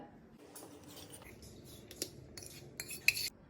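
A spoon whisks curd in a small bowl to make a starter for setting milk into yogurt. Soft, faint clinks and scrapes build toward a few sharper taps near the end, heard close and quiet with no talk.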